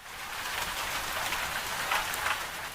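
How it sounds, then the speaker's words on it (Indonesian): Rain falls steadily on a surface, a dense even patter of drops that stays constant throughout with no voices. "Suara hujan,"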